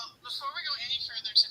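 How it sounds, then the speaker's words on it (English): A mobile phone sounds off with a wavering, bright electronic tone that runs briefly and ends with a sharp high blip, heard close and alone. "That was my phone, because I have my phone on so I could follow the chat,"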